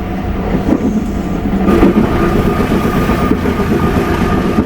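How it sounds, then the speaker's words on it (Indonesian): Passenger train running on the line near Notok tunnel, a loud continuous rumble and rattle heard from inside the carriage, steady throughout with faint wheel clatter, no talk. "Saat ini kita melintas di terowongan Notok."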